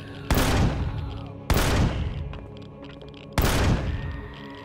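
Three loud, separate gunshots ring out in the survival video game Empyrion Galactic Survival, each a sharp crack followed by a long echoing decay, spaced about a second or two apart, with no talking.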